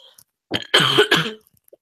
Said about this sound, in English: I'm a little sick right now, so I apologize if I keep coughing.